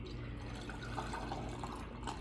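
Buttermilk from homemade butter poured through a canning sieve into a jar, a soft continuous trickling and splashing of liquid close by, with no talking.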